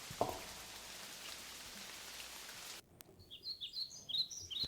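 Soft, steady rain patter that abruptly stops, followed by quiet with faint bird chirps in the distance.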